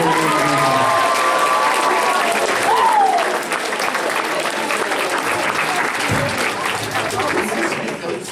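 Grad night crowd at a hypnotist show bursts into sustained applause and cheering, loud and dense throughout, with a few whistles and voices rising over the clapping.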